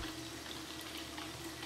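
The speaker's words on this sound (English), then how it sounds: "And I have some water with some vinegar running through there." Water mixed with vinegar runs steadily through graphics card water blocks in a makeshift cooling-loop setup, giving a faint, even rushing flow with no pauses.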